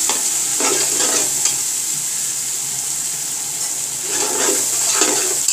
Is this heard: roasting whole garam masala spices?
yes